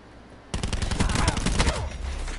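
Video game gunfire erupts after a brief quiet lead-in, a loud dense burst of rapid shots lasting about a second, then ringing and lingering noise.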